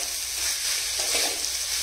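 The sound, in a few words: khichuri sautéing with spices in a pan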